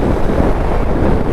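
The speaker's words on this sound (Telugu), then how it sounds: "గాలి అయితే వస్తూ ఉంటుంది" Wind buffets the microphone while riding a motorbike through traffic, a loud low rumbling gust noise that fills the whole brief moment without pause.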